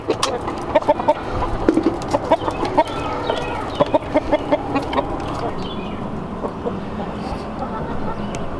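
Several chickens cluck in quick, rhythmic bursts close by, with a busy background of farmyard noise and people talking.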